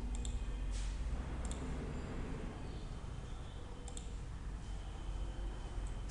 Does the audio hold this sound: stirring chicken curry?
no